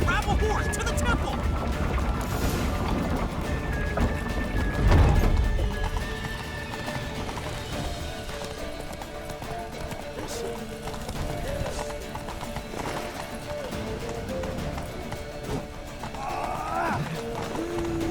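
A horse gallops in The Witcher 3 with steady, rhythmic hoofbeats clip-clopping up close throughout. There's a whinny and a heavy crash midway, and the rush of a chase carries on under shouted voices.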